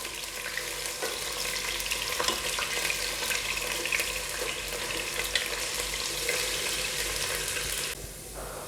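Potato pieces fry in hot oil for biryani with a dense, steady hiss and crackle that stays close and loud for most of the stretch, then drops slightly near the end.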